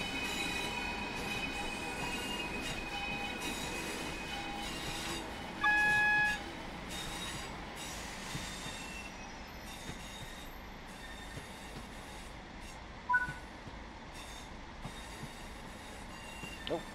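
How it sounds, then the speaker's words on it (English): Train wheels screech around a curve in a railway simulator game on the Preston, Blackpool and Ormskirk lines, a sustained metallic squeal over rolling carriage rumble and clicking rail joints, loud and close, with brief higher tones near the middle. "with trains coming around this corner here as well"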